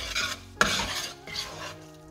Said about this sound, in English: Give it a good mix and we have to cook it till it is properly roasted and changes color.